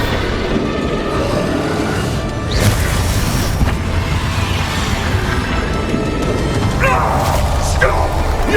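A Bombarda blasting spell goes off in Hogwarts Legacy, a dense rumbling boom amid a busy mix of combat effects and music, with further crackling bursts near the end.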